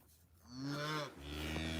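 A white-faced cow on a winter prairie farm moos once, a loud, close, drawn-out low call that swells and holds for over a second after a brief quiet start.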